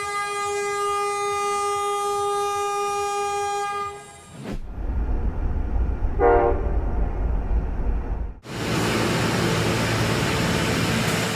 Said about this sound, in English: a woman in Ivanovo, Russia missed an entire moving train